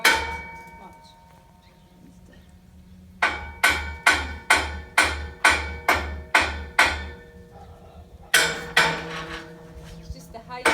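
Rusty, stiff steel scaffold fittings struck with a hammer while building scaffolding against a farmhouse wall: a run of about nine sharp, ringing metallic clangs at a steady pace, then a second burst of rapid blows after a short pause.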